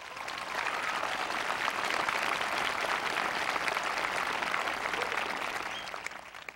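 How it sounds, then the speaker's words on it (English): An audience at a 2004 South St. Paul high school graduation applauds with sustained, dense clapping that stays even for several seconds before tapering off near the end. "Let's give them a round of applause,"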